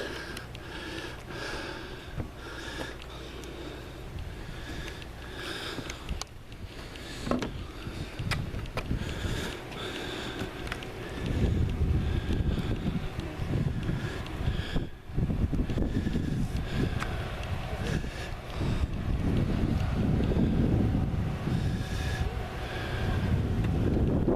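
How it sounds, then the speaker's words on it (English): Wind gusts across the microphone outside Seahorse Key Lighthouse on its exposed platform, producing a continuous rumbling roar that swells louder and rougher in the second half, with no one speaking. "Audio is probably not going to be great because of the wind"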